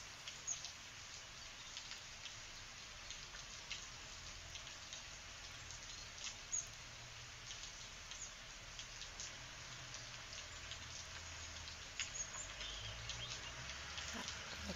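Steady rain falling in a garden, drops pattering and plinking on a hard terrace surface, a dense continuous wash with scattered brighter drip ticks throughout.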